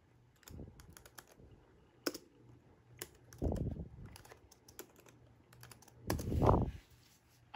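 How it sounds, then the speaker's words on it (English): Keystrokes on a US-layout computer keyboard during a Windows machine unboxing, arriving in irregular bursts of close clicks with short pauses between, loudest near the end, with no talking. "let's just type something in here"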